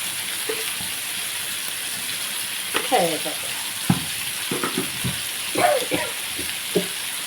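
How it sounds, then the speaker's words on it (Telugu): Onions sizzle in a generous amount of hot oil in a home kitchen, a steady close frying hiss with scattered clinks and stirring scrapes, no talking. "ఉల్లిపాయలు వేసేస్తున్నాను"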